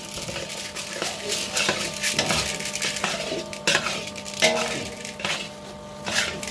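Roasted gram and jaggery are stirred and mixed by hand for laddu, making continuous close scraping and rustling with soft knocks against the vessel and no one speaking.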